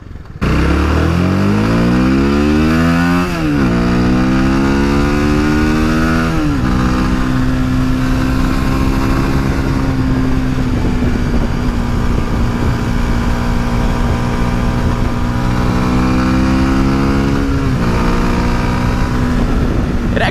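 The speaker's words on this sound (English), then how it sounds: "It actually surprises me how well this bike gets up and goes." A Hyosung GD250R 250 cc motorcycle accelerates hard close by, its engine note climbing through two quick gear changes, then holding a loud, steady drone over wind rush.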